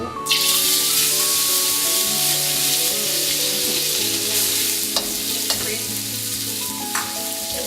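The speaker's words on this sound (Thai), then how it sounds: "พอน้ำมัน กับกระทะร้อนนะก็ใส่เนื้อหมู" Loud, continuous sizzling of pork frying in a hot oiled wok, with occasional clinks of a utensil stirring against the pan.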